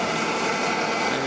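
A Milltronics VKM4 three-axis CNC mill spindle turning at 2,000 RPM with a drill bit fitted, giving a loud, continuous high-pitched mechanical whine with no speech.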